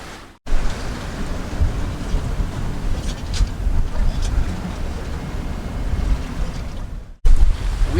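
Sailboat cruising at sea in the Bahamas at about 4 knots, with steady wind roar and water rushing against the hull, loud and continuous, broken by a brief drop near the start and again near the end.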